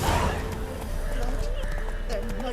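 Geralt's horse clops through a town in The Witcher 3, rhythmic hooves with a brief whinny, heard under someone talking over game music.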